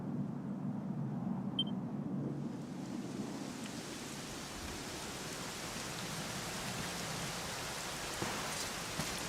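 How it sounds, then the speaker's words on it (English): Steady rain in the video game Dragon Quest XI S pours down continuously, a dense hiss of falling drops with a soft low rumble, no voices. "it was raining like this the last time I ever saw her"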